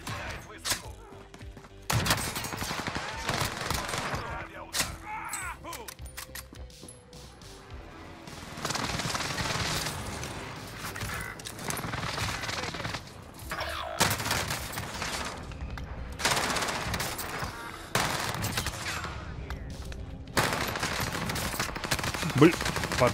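Gunfire in Warzone, with repeated bursts of shots and crashing impacts over a busy, fairly quiet game mix, and faint talk now and then.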